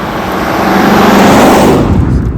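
A 1968 Dodge Coronet 500 muscle car with a Hemi engine drives by, loud and close, its rumbling roar building and swelling before easing off at the end.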